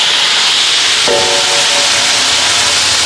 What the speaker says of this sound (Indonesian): Sekarang kita masak tumis kubis.